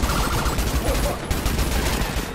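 Dense, continuous rapid gunfire and booming cannon shots fill the clip, loud and close, like heavy weapons firing in the video game Adaca.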